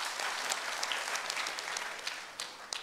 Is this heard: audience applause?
yes